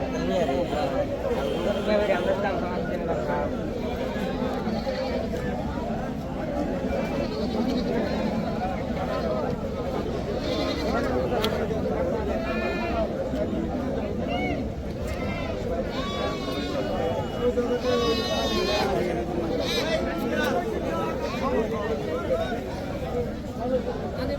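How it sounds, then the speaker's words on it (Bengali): Native goats bleat now and then through the steady chatter of a busy crowd at an Eid goat market, their calls thin and intermittent under people talking nearby. "আপনারা এখানে যে ছাগলগুলো দেখতেছেন বেশিরভাগ পরিমাণে কিন্তু দেশি ছাগল"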